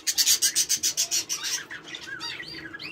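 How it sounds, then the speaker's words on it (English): Pet budgies chirp up close, opening with a quick run of about a dozen raspy, evenly spaced chatters, then shifting into looser, warbling chirps and tweets. "Today we're going to start with the budgies"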